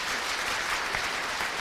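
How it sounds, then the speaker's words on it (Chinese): A church congregation at an Easter Sunday worship service claps for the choir, producing a brief, steady wash of applause at moderate loudness without speech. "拍手谢谢他"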